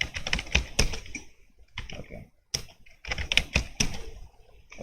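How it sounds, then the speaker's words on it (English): Someone types on a computer keyboard while configuring Cisco networking, with quick bursts of sharp, close key clicks broken by short pauses. "Typing it wrong."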